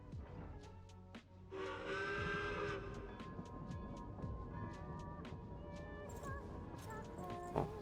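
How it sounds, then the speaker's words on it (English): A train passes in a video game featuring Paimon, with a sustained whistle tone, rhythmic clattering and rumbling wheels, and repeated sharp clicks, moderately loud and close. "Oh, just wait for the train"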